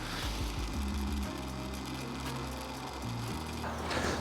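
A carp fishing reel having its line stripped off by a motorized spooling tool makes a continuous close mechanical whir with a shifting buzzy hum, changing speed slightly near the end.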